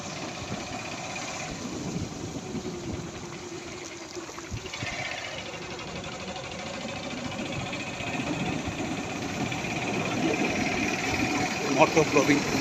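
A motorcycle ridden over a badly broken rural road near Gafargaon, Mymensingh, its engine droning steadily with rattles and jolts throughout, growing slightly louder toward the end.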